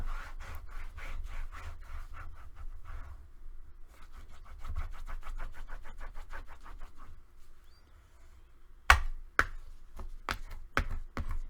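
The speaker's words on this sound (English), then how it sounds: "go ahead and press down and burnish like crazy" Scraping and rubbing of a burnishing tool pressed hard over paper for a mini album, in quick repeated strokes, followed by a few sharp taps and clicks near the end.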